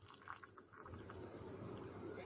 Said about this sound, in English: Pour the boiled water to the line inside,